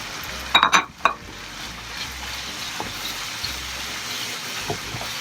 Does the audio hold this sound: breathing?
no